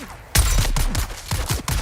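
Several quick hip-fire gunshots in Dune Awakening, a sharp loud burst followed by a string of spaced shots over under two seconds.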